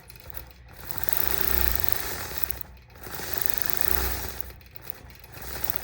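Sewing machine stitching a whole-cloth baby quilt, a rapid rhythmic mechanical chatter rising and falling in bursts with short pauses between runs, close and alone with no voice over it.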